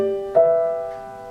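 Piano playing a bar of a theme in an easy arrangement: a held note rings, then a fresh chord is struck and sustains with a slow, steady decay, close and clear with no voices.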